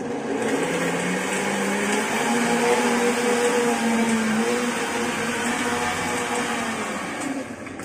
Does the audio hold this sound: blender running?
yes